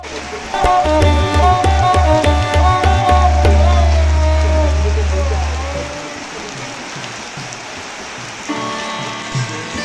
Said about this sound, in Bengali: এই যে বৃষ্টির জন্য অনুষ্ঠানটি এখন থমকে গেছে